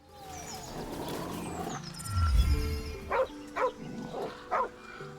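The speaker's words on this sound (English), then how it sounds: "Okay, so there's a doggy here." A dog in the video game Baldur's Gate 3 lets out four short, distinct barks in a loose rhythm, following a brief low rumble, at moderate volume with no talk.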